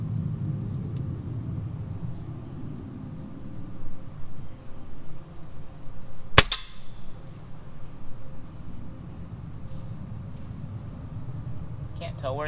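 A single sharp crack from a Gamo Swarm Maxxim 10x Gen2 .177 air rifle fired outdoors, standing out briefly over a steady bed of chirping crickets and low rumbling background noise.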